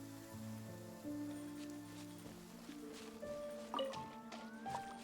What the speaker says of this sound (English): But this is foggy and raining still.